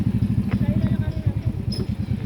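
A motorcycle engine putters in a steady low throbbing rhythm nearby while a person speaks over it.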